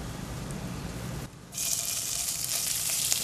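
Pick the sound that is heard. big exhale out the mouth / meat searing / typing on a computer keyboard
meat searing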